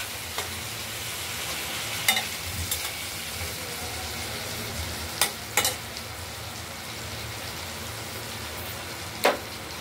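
Potatoes frying in a pan for a vegetarian paneer curry, a steady low sizzle running throughout with a few sharp clinks of a spatula against the pan, close and fairly quiet, no voices.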